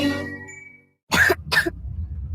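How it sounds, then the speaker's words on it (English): A sick child coughs twice in quick succession, close and dry, after a brief voiced sound and a moment of silence, with a low room hum underneath. "What about my cough?"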